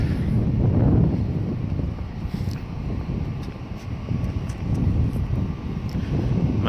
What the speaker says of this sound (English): there's a little bit of wind out here